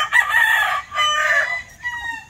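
Rooster crowing on a chicken farm, two long loud crows in quick succession followed by a shorter, fainter call, close by with no talk.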